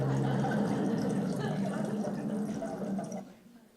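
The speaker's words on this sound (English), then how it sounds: "Here's a popular sound that you'll hear a manatee make." A manatee calling underwater, a continuous warbling, squeaky vocalization over a watery background hiss that fades out near the end.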